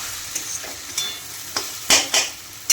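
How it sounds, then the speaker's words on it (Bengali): Water spinach greens frying in a pan, with intermittent sizzling bursts and scraping stirs against a quiet background, no talking. "এখন হচ্ছে কলমি শাক ভাজা"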